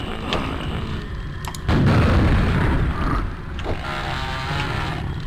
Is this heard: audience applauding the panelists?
no